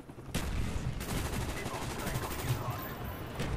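Sustained rapid fire from an AK rifle fitted with a dual magazine in Black Ops, a dense continuous stream of shots filling nearly the whole stretch, loud and close.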